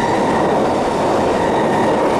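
An Intercity passenger train rushing past close by, a dense loud continuous roar of wheels and rail noise with no break in the short stretch.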